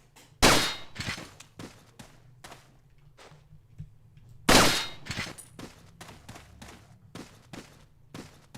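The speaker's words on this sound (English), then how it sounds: "shooting him is starting to make me doubt it" Two sharp, loud gunshots from Resident Evil 4 on Switch, spaced about four seconds apart, each followed by quieter clanks and impact sounds against a low game hum.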